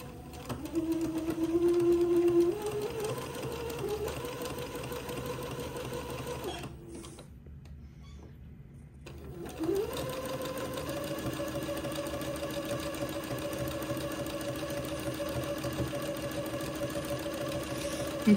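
A sewing machine zigzag stitches a sashing seam joining lace and batiste, its steady mechanical whir running continuously, pausing briefly midway, then resuming at an even pace close by.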